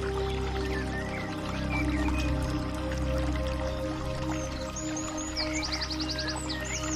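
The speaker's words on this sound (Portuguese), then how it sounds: "Ouça os pássaros e o barulho das águas." Steady rushing water flows continuously in a green natural setting, with faint scattered bird chirps and tweets rising above the constant watery wash.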